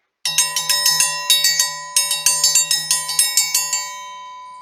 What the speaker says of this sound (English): that's my lunch bell